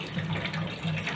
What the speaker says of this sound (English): So rice is washed.